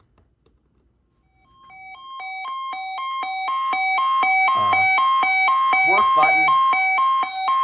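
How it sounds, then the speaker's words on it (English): A weather radio's siren test, a loud, steady electronic alarm tone with bright harmonics that rises from silence and holds. A person speaks briefly over it. "Let me see if I can find the siren test here."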